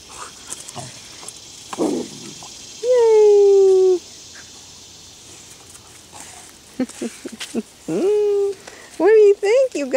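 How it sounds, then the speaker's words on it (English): A puppy whimpers nearby, giving long, high, wavering whines with quieter yelps between them, against a mostly quiet room. "We got us a puppy."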